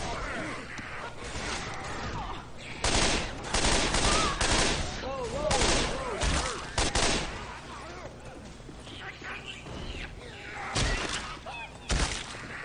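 Rapid bursts of gunfire from a Left 4 Dead 2 match, dense overlapping shots and impacts running throughout at close range, with voices talking over the shooting.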